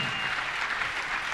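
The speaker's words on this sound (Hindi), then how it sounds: "अच्छे भैया जी एक बार अच्छी तालियां बजाओ" Steady applause from an audience at a Jain religious ceremony, dense even clapping filling the whole moment without pause, fairly near and full.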